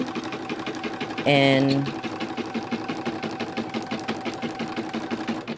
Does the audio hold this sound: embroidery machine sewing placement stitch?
yes